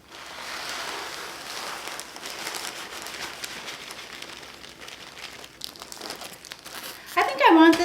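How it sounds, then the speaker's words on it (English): Dry rice grains pouring into a quart-size plastic bag, a steady rustling, crinkling patter close by that runs on for several seconds before a louder burst of bag handling at the end. "So what I'm going to do first is fill our bag with rice."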